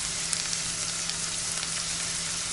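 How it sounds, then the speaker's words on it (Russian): Onion frying in heated oil in a frying pan gives a steady, close, continuous sizzle with fine crackling throughout and no voices. "Масло нагрелось, выкладываем лук и обжариваем его до золотистого цвета"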